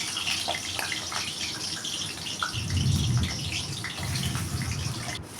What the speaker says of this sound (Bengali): সেই আলুগুলোকেও লাল লাল করে ভেজে নেব